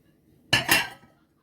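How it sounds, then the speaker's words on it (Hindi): Minced meat and spices go into a bowl while making nargisi kofta, giving a single brief metallic clink and clatter of a utensil against the dish in a quiet kitchen. "तो कीमा बोल में डालते हैं"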